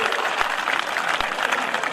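Audience applause at a Hindi comedy poetry recital (kavi sammelan), a steady dense wash of clapping from a crowd lasting the full two seconds with no talk over it.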